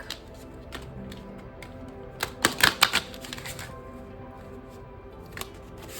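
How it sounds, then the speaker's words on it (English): A short flurry of crisp riffling flicks from a deck of tarot cards being shuffled bursts out midway, surrounded by soft, quiet handling noise. "let's select another card by shuffling this deck here"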